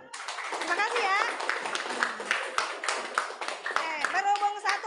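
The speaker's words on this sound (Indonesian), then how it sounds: "Baik, tepuk tangan dulu." Children's clapping in a sixth-grade primary maths classroom, scattered and uneven hand claps mixed with chatter and children's voices over nearly five seconds.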